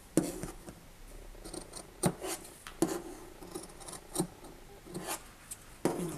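Sewing scissors snip into fabric, trimming the seam allowance and corners of a washable-wipes basket: a run of short, crisp cuts spaced irregularly about half a second to a second apart, quiet and close with no talking.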